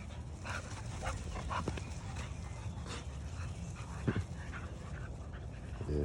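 American Bully dogs play close by with steady panting, small whimpers and yips over a busy, noisy background, with no talk.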